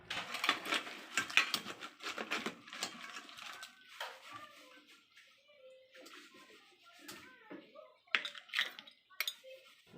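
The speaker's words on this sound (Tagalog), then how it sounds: "At eto na, maglagay na tayo sa plato." Ladling crab and coconut-milk stew with oyster sauce onto a plate, with scattered clinks of utensils against pots and dishware and faint liquid sounds, quiet and close, while people talk in the background.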